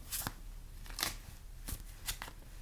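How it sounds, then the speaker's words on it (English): Several quick riffling bursts of tarot cards being shuffled, close and crisp, separated by short pauses. "So I'm going to shuffle"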